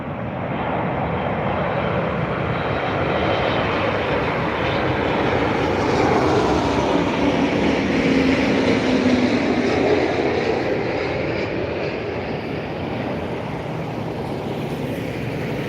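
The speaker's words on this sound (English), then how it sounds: "that was Ryanair Boeing 737 MAX 8 200 from Birmingham" A six-year-old Ryanair Boeing 737 MAX 8-200 jet arriving from Birmingham passes by with a continuous broad roar that swells in the middle and eases off slightly, with no voices over it.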